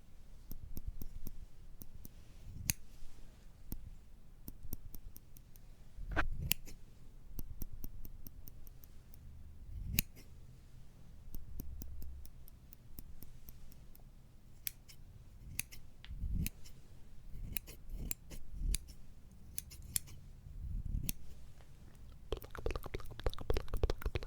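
Scissors snip close up during a microphone unboxing, sharp isolated cuts and clicks scattered irregularly over quiet background, with a cluster of rapid snips near the end; no one speaks.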